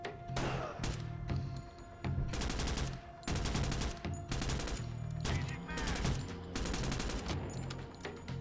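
Enemy gunfire in Door Kickers 2 crackles in repeated automatic bursts, loud and sharp, with brief gaps between volleys and heavy thumping impacts.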